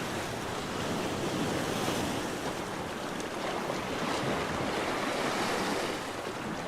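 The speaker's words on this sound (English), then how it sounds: "We've got some waves crashing up on these rocks." Sea waves crash against coastal rocks at a fishing spot near 1770, Queensland, Australia, making a loud, steady roaring wash of surf with wind buffeting the microphone throughout.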